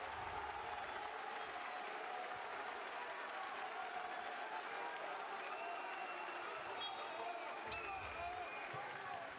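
A basketball arena crowd at a Basketball Champions League game reacts with a sustained wash of noise, applause and murmuring filling the space and staying loud and continuous throughout, with no single voice standing out.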